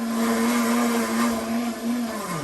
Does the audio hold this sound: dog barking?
no